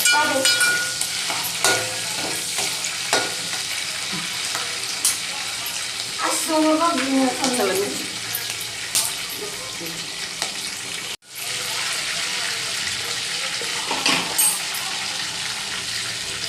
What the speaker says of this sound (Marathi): तुम्हाला मसाला कढीपत्ता परतवून झाला आहे आपला